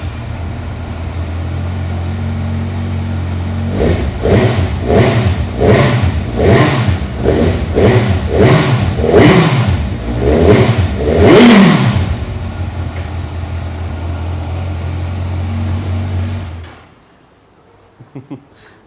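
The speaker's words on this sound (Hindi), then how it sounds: "ये थी कुछ स्टॉक एग्जॉस्ट की आवाज़" A Kawasaki motorcycle on its stock exhaust idles and then revs hard in a rapid series of about a dozen sharp blips. The engine drops back to idle before shutting off into near silence.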